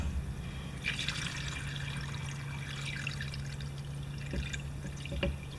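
Water trickling and dribbling as a small engine part from a 3.5 HP Tecumseh mower soaks, with steady low hum and faint splashes and drips, close and fairly quiet, no talking.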